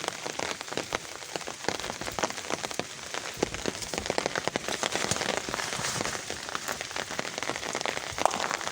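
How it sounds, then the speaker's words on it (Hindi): Steady rain patters on surfaces around a garden with roses, a dense crackling of drops with scattered sharper splats, close and continuous throughout without any talk. "पानी कैसे जा रहा है बारिश का।"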